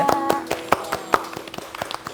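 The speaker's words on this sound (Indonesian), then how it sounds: "seperti tepuk tangan dong untuk Riza." A small group claps hands, an uneven run of sharp, close claps spread through a couple of seconds, with light chatter faintly underneath.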